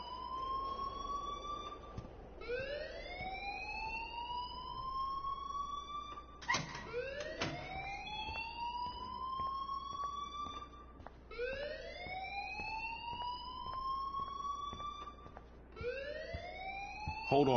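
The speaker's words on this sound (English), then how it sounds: "please turn off that alarm since that's your job." A repeating electronic alarm wails in the video game Life is Strange, each tone sweeping upward then restarting in a steady cycle. It is loud and continuous, with a few sharp clanks breaking in partway through.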